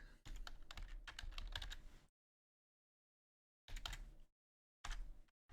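Computer keyboard typed in quick bursts of close, clicky keystrokes, a couple of seconds of rapid tapping, then a pause and two shorter flurries separated by silence.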